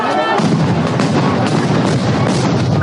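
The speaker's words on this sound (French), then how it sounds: "Grenades sifflantes, assourdissantes. Les explosions sèment la panique." Stun grenades going off during a police charge on protesters: loud, dense blasts with several sharp bangs standing out over a continuous roar of noise.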